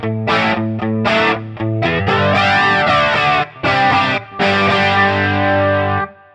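Distorted electric guitar through an Electric Mistress–style flanger on an Axe-FX III with a Hiwatt DR103 amp model, loud chords with a rising and falling jet-like sweep, short choppy hits then sustained strums.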